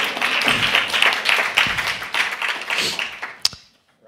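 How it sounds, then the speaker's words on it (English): Audience applause at a policy brief launch on agroforestry in Ukraine, a dense burst of many hands clapping that fades out near the end, with a final sharp clap. "We can applaud."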